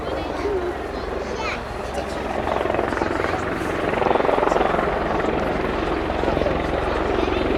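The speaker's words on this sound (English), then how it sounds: "Gunship 2 now pulls up and turns away from the formation." Attack helicopter gunship flying at the Royal International Air Tattoo air show, a loud steady rotor and engine roar that swells midway as it pulls up and turns, with a commentator talking over it.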